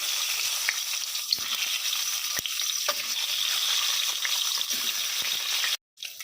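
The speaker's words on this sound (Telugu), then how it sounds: "పసుపు వేసుకున్న తర్వాత ఇందులో ఎగ్స్ వేసుకొని వేయించుకోవాలండి." Boiled eggs frying in hot oil with turmeric give a steady, close sizzle with faint stirring clicks for about six seconds, then a brief drop to near silence before the sizzle resumes.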